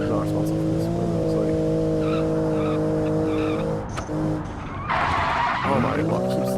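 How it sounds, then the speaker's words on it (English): In a racing video game, a race car's tires lock and skid under braking, giving loud sustained squeals over a droning engine, with a sharp burst of skidding near the end and someone talking over it. "Oh my, it keeps locking up."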